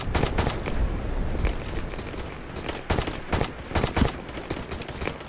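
A whole magazine is emptied in Battlefield 2042: sustained, loud rapid gunfire with shots rattling off in dense runs and a few heavier bursts near the end.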